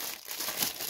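Plastic packaging around a 12-in-1 laminator crinkles and rustles briefly as it is unwrapped, a soft, close crumpling sound.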